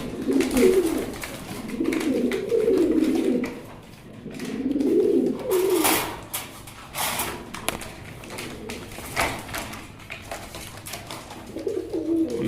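Fancy racer pigeons cooing in close, rhythmic throaty bursts spaced a couple of seconds apart, with light tapping and shuffling between them.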